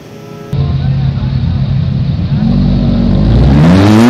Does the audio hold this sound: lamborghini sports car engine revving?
yes